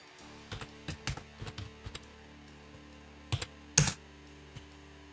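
Typing on a computer keyboard in a Linux terminal: scattered clusters of close, crisp key clicks with pauses, a few louder strikes near the end, over a quiet background hum.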